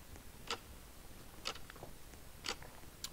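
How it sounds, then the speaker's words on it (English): Faint, evenly spaced ticks sound about once per second in a Roblox horror game, each a short sharp click over a quiet, hissy background. "What is this constant ticking noise?"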